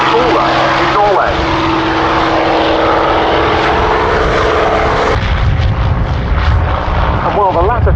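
A North American Cavalier F-51D Mustang propeller warbird flies past at an air show, its loud, steady piston-engine drone filling the scene throughout, with a commentator talking over it.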